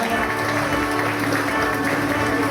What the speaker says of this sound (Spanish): Recibimos con aplausos a Víctor Manuel López